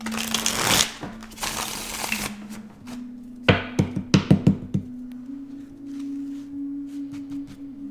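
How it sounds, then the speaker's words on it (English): Riffling card shuffles, a loud dense burst at the start and then a quick run of sharp snaps and bridging flutters, close up with a steady hum underneath. "I can't shuffle the deck that way. Let me do it this way."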